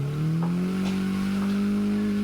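Mazda MX-5 Miata drifting on a track, engine holding a steady loud drone throughout, with brief higher squeals of tire scrub breaking through.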